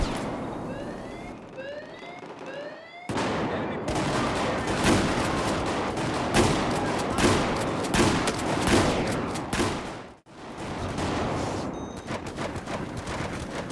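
Shotguns firing from the hip in Battlefield 4, dense rapid blasts of gunfire over busy game noise, starting after a quieter stretch with whistling chirps, with a brief gap near the end.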